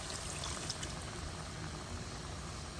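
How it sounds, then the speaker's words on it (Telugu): Masala-blended grinding water poured into a pan of simmering raw shrimp curry, giving a steady, close liquid rush with a faint bubbling hiss throughout. "రొయ్యలు ఉడకడానికి నేను ఇందాక మసాలా రుబ్బుకున్న వాటర్ ఉంది, అది వేస్తున్నాను చూడండి"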